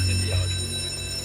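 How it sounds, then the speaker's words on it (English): Man overboard alarm aboard the Royal Navy warship HMS Duncan, a steady loud electronic tone with sustained pitched layers filling the ship's interior. "The man overboard alarm has sounded."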